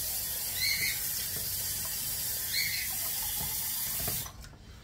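Water runs from a kitchen tap into a sink in a steady hiss, with a couple of faint squeaks from the faucet, then cuts off abruptly near the end.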